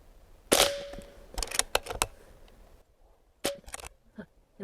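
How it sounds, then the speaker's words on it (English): An air rifle fires .177 pellets at a range target, giving two sharp close cracks about three seconds apart, each followed by brief clicks and small metallic ticks. "So I'm gonna shoot one more."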